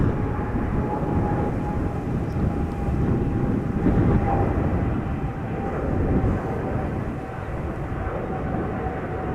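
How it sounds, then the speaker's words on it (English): A Boeing 777 with GE90 engines taking off from the center runway at Amsterdam Schiphol, a steady broad engine roar with a faint whine, sustained and fairly loud at a distance for the whole stretch. "Now another triple taking off from center."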